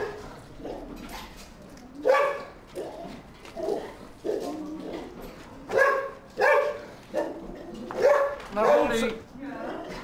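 A dog barks repeatedly nearby, sometimes in quick pairs, at an uneven pace over about ten seconds, with a person's brief speech mixed in.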